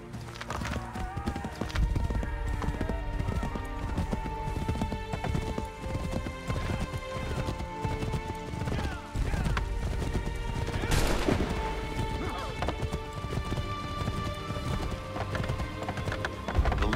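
Horse hooves gallop steadily in the Assassin's Creed Chronicles video game, loud and continuous against a dense music score, with neighing and bursts of gunfire scattered through the ride.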